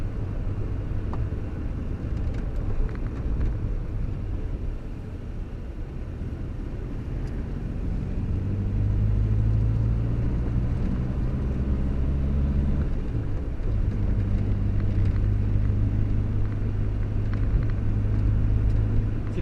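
Morris Minor car engine ticking over at idle, a steady low rumbling hum that holds close and even, swelling slightly louder partway through with no voices.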